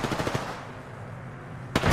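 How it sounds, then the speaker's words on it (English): Rapid automatic gunfire in Apex Legends, a quick burst of evenly spaced shots up front, a short pause, then another burst starting, loud and close with no talk. "I am taking fire, friends."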